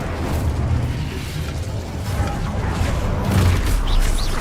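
A roaring burst of fire from a cast Incendio spell in Hogwarts Legacy, a loud, dense rumbling blast that stays steady and surges slightly near the end.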